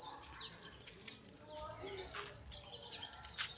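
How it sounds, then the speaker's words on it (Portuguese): Many small birds chirp and tweet densely in a tree in a small town square in the isolated village of Mangue Seco, Brazil, a continuous bright chatter of overlapping calls with faint talk in the background. "Que árvore será essa? Não sei, mas tá cheio de passarinho aqui."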